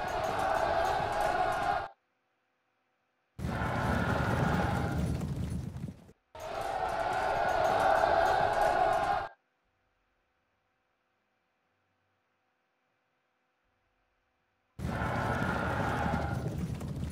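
Massed cavalry hooves from the Pike and Shot game's Battle of Marston Moor, 1644, come in three loud, dense bursts of rumbling, clattering gallop separated by abrupt silences.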